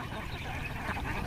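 Dense, continuous quacking from a crowd of Khaki Campbell ducks on a duck farm in Muktagacha, Mymensingh, a busy overlapping din with no clear pauses.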